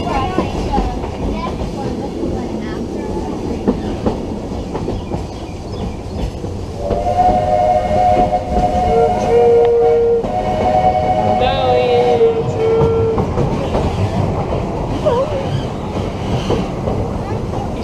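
A Magic Kingdom steam train pulls out of Main Street Station at Walt Disney World in Florida, its whistle sounding steady tones over a continuous rumble of the train and a busy park crowd.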